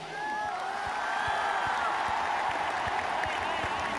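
Audience applause for cricketer Mohammad Amir at the Karachi Kings launch concert, a steady wash of clapping from a large crowd, with a voice over a loudspeaker at the start.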